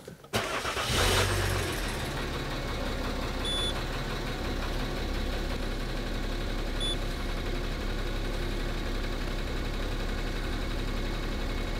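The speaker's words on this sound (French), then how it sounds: "Alors, j'essaye. Démarrage." A car undergoing a diagnostic check cranks and catches sharply, then settles into a steady, close idle that drones on evenly with no one speaking.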